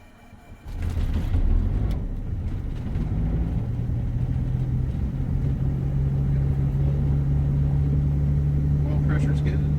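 Twin piston engines of a Cessna 421C idle steadily just after start-up, a loud continuous low rumble with a sustained drone, voices talking over the running engines.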